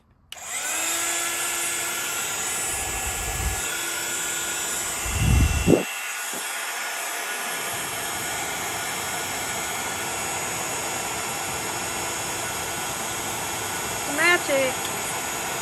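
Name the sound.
heat gun running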